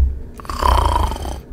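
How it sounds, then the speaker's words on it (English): A person snores in one drawn-out, rasping breath that swells and then fades, close and fairly loud, with no talk over it. "he's snoring, yo"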